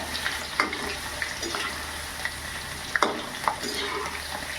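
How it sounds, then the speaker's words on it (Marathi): Okra for masala bhendi frying in hot oil, a steady crackling sizzle with scattered clinks of a spatula stirring in the pan. "म्हणजे मस्तपैकी अशी तळून घ्यायची त्याच्यात तेलात"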